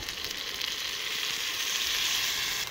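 Soy sauce hits a hot pan of native frog adobo, setting off a loud, continuous close-up sizzle and crackle of frying that fills the clip without talk.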